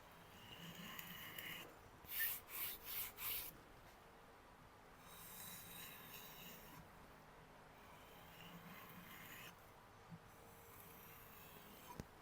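A Wüsthof kitchen knife is drawn across a kangaroo leather strop to clear a fine burr, giving four quick, soft, evenly spaced swishing strokes close by, followed by a faint, quiet background.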